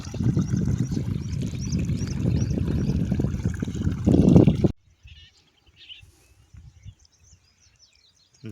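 Canal water gushes steadily into a summer sorghum field for several seconds, loud and close, with birds calling faintly over it. It then cuts off abruptly to near silence, broken only by a few faint chirps.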